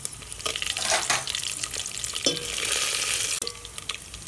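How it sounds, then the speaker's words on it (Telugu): Tempering spices of cumin, urad dal, mustard seeds and fenugreek fry in hot oil with a busy crackling sizzle and scattered pops, stirred now and then, close and steady with no talking. "తాలింపు దినుసులు వేస్తున్నానండి."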